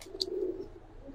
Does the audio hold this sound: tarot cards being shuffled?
no